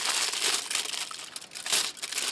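Aluminum foil crinkling and crackling continuously as a baked potato pouch has its ends folded in, close and fairly loud, with no voices.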